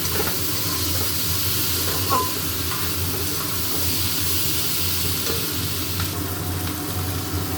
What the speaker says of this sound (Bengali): এতে আর কোনো মশলা দেবো, ভালো করে কষবো।